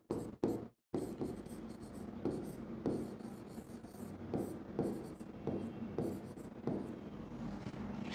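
Pen scratching on paper as a chemistry calculation is written out by hand, close and quiet, in short strokes and bursts after a brief pause at the start.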